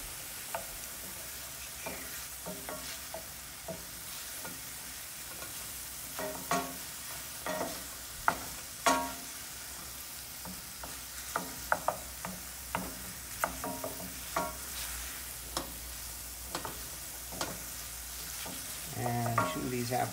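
Granny Smith apples cooking in butter and lemon juice in a cast iron skillet, with a soft, steady sizzle broken by frequent sharp clicks and scrapes of stirring, close and fairly quiet.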